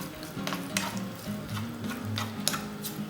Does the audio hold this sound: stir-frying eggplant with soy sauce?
yes